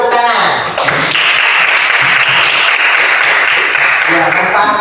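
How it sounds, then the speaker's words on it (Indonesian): A classroom audience claps together in a sustained burst of applause for a practice micro-teaching lesson, steady and fairly loud, with a teacher's voice speaking over the start and end. "beri tepuk tangan"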